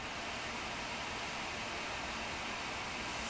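A steady, loud rushing whir of a Sapphire RX Vega 64 graphics card fan spinning at full speed, constant and unbroken like a hairdryer.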